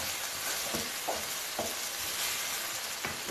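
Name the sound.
stirring potato and vegetable filling with cream in a pan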